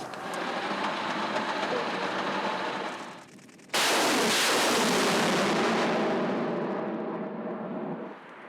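Dense, roaring blasts of heavy artillery fire fill the air in wartime Kharkiv region, with a brief lull before another powerful, sustained burst that slowly fades.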